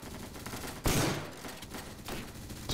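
A shotgun fires once in a first-person shooter video game, a loud close blast with a short roar that tails off, followed by a fainter second report about a second later, with no talk.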